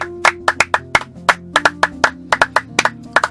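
A church congregation claps during a French-language prayer for couples, with sharp, uneven handclaps in a loose rhythm over a sustained organ or keyboard tone.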